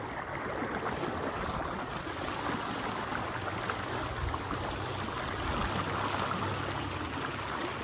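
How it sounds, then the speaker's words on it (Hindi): Steady, heavy rush of churning floodwater through a village filling the whole stretch, a loud continuous roar with no voices. "खतरनाक पानी है, सैलाब देख रहे हो।"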